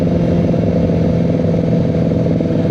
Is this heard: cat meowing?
no